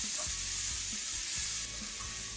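Finely chopped onion sautés in a pan for mint pulao, a steady, even hiss with faint soft knocks of stirring, close and unbroken, with nobody speaking.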